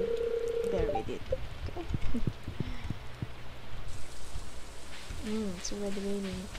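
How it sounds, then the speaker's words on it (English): Rain patters steadily in the video game Stardew Valley, under soft clopping game sounds and chiming tones, with no one speaking. "It's already raining."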